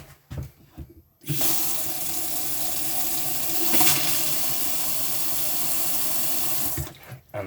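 A caravan tap is opened on the cold side and water gushes steadily and loudly into a basin as air clears from the system, with brief knocking before it starts and after it stops.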